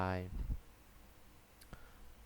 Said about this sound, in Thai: แก้ไขข้อมูลคลิกเข้าไป